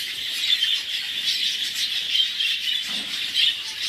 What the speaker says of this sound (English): Another nice bird.